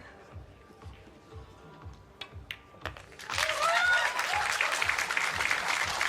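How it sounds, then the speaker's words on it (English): A crowd at a pool match breaks into sustained applause partway through, loud and dense, after a stretch of quiet hall sounds with a few faint taps. "They are cheering on Starboy."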